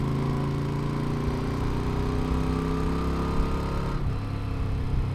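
Continuous droning motorcycle engine hum from a Moto Guzzi V7 850 while riding, with steady harmonic tones, holding a fairly constant pitch; it changes character slightly near the end, no voices.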